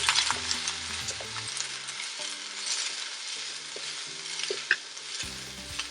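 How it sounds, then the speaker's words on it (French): Zucchini sautés quickly in a hot pan, a steady close sizzle with stirring scrapes and light clinks running throughout, no voices. "on fait sauter rapidement les courgettes à peu près 3 minutes hein"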